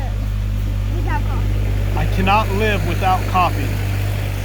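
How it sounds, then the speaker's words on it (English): A low, steady tractor engine rumble drones in the background throughout, while someone talks over it close to the microphone. "we've got a tractor coming by."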